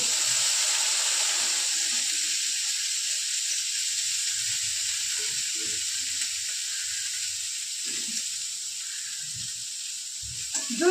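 Peas go into a pan of homemade Maggi noodles, and a steady, bright sizzle hisses on through the whole stretch, with faint, soft murmurs now and then underneath.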